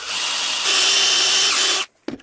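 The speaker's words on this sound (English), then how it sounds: "this will help guide the drill bit into the end of the stock" A power drill bores into the end of a piece of wood stock with a loud, steady whine for nearly two seconds. The drilling then cuts off, followed by a brief knock.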